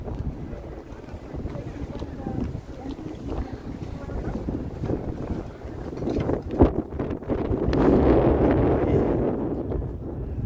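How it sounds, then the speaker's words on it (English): Cold wind of about -20°C on a Toronto street buffets the microphone in a continuous low roar that swells louder toward the end, with a voice talking faintly underneath. "Comes that wind."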